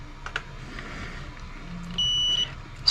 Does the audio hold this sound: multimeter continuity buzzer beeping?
yes